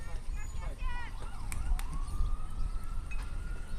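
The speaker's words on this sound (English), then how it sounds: "The sirens again in the background." A distant emergency siren wails and slides in pitch behind a steady crowd murmur at a baseball game, faint but continuous.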